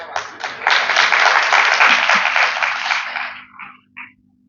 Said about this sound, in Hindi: इतनी तल्लीनता के इतना गंभीरता के साथ मत सुनिएगा कि आपकी तालियां ना बजे।